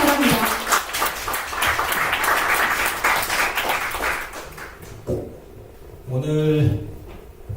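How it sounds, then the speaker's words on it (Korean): An audience gives a lecturer a warm welcome at a talk on ancient Korean history. The applause is a dense, sustained burst of many hands for about five seconds and then fades, and a voice briefly sings or calls out afterward. "최원호 기획본부장님 큰 박수로 맞이해 주시기 바랍니다."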